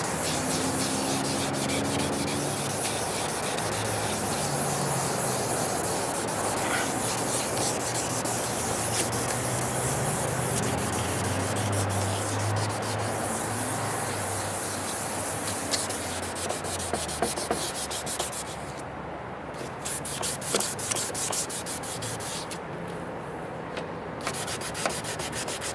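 Fast, continuous rubbing and scraping of sanding on a faded plastic car headlight, loud and close, with brief pauses near the end.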